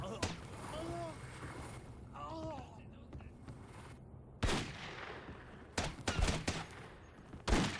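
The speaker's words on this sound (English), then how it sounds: "They're shooting through the goddamn walls!" Gunfire in the 2002 PC game Delta Force: Task Force Dagger during close-range urban room clearing, sharp bursts of shots through walls arriving in loud clusters, with a voice between them.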